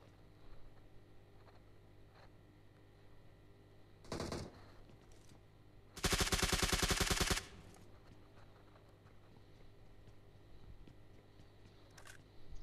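Rapid automatic gunfire in the PUBG Mobile battle royale game: a brief burst, then a loud sustained volley of about a second and a half, with low background noise and no talk.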